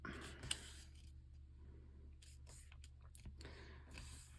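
Paper being folded into a paper airplane: soft, close crinkles and creasing swipes with a small sharp crackle, quiet against a low background hum.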